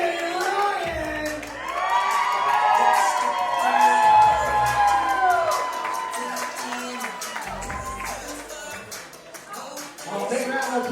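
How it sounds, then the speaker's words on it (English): Wedding guests at a reception cheer, whoop and shout excitedly with scattered clapping, a loud lively crowd din with voices rising and falling throughout. "big round of applause"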